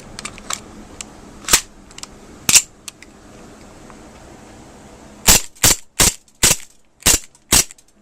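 An Aftermath M9 CO2 blowback airsoft pistol fires with a WeTech magazine: a few spaced sharp cracks, then a quick string of six loud snapping shots close by.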